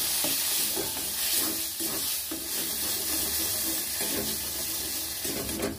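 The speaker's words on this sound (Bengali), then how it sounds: "খুন্তি দিয়ে ভালো করে নেড়ে নেব।" Raw banana peel paste with ajwain fries in a pan and is stirred with a spatula: a loud, dense, continuous hiss and crackle with rough scraping strokes, close up and without talk.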